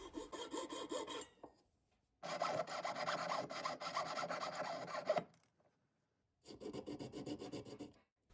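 Hand file rasps along the sides of a white gold ring setting in three steady bursts of rapid back-and-forth strokes, close and alone, separated by short pauses.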